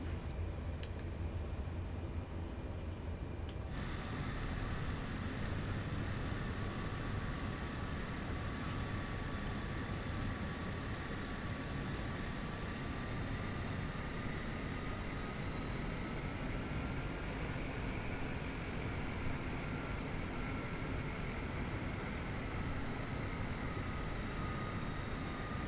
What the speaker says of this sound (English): We're just going to taxi around here, up through all these little taxiways.